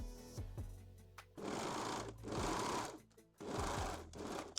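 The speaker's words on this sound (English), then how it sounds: "And sew the seam using a serger or a zigzag stitch." A serger or zigzag-stitch sewing machine stitches the crotch seam of a lingerie thong, running in three steady bursts with brief pauses between them, close and fairly quiet, with no talking.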